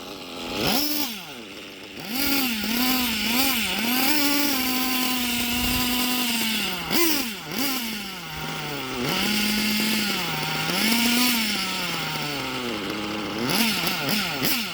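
STS D21B Dragon nitro model engine running for a Traxxas torture test: a loud, buzzing high-pitched whine that rises and falls in pitch as the throttle is worked, continuous throughout with no voices.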